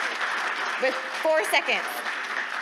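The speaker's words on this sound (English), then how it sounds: "Now you guys can clap for us" Applause from a small audience at the end of a presentation, a brief burst of clapping and cheering mixed with voices talking over it.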